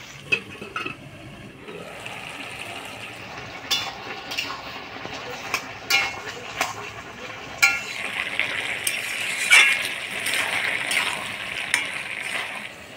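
Chopped vegetables for a Bengali chachchari simmer in a pot after water is added, a soft steady bubbling hiss with occasional clinks of a spoon or lid against the pan.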